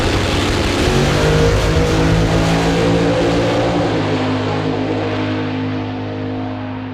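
A drag racing car screams down the track at full throttle, a loud sustained engine roar that holds steady and then slowly fades into the distance.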